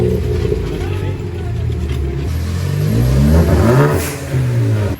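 A Ford Focus ST engine revving on a dyno, loud and close, the pitch climbing and surging through a rising pull with a brief dip near the end, while voices talk over it.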